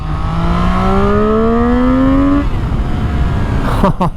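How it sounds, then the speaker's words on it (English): A 600cc motorcycle engine hums loudly with its pitch climbing steadily, then the tone shifts and fades as the revs trickle down under engine braking, ending with a few sharp bursts. "letting the revs kind of trickle down like we are now, and your engine braking"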